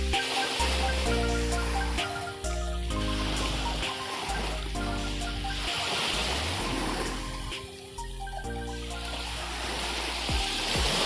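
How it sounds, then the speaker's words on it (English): Waves wash onto a fine-sand beach at Narathiwat, Thailand, a steady broadband rush and hiss with surges rising and falling throughout, fairly close and continuous, with no talk. "The sound of waves crashing on the shore is one of the most relaxing sounds on earth."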